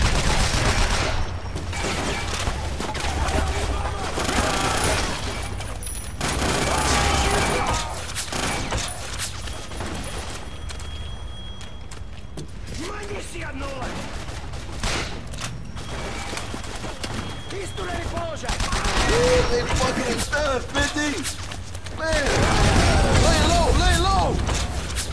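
Bursts of gunfire from the video game 50 Cent: Blood on the Sand, including light machine gun fire, crackle in repeated volleys with booms and mechanical clatter, rising to dense loud stretches near the start and end, with excited talk over the action.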